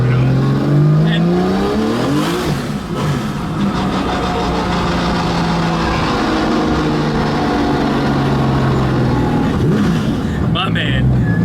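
Porsche 993 Turbo GT2 EVO street car with twin TD06 turbos, about 2600 lb, accelerating hard on a street; the loud engine climbs in pitch through the gears in a continuous pull, with a voice speaking over it.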